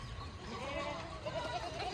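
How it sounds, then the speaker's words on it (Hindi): Nanny goats with kids bleat on a Rajasthan goat farm, a wavering, quavering cry rising and falling over a busy, noisy pen with indistinct background voices. "ये बच्चे वाली बकरियाँ"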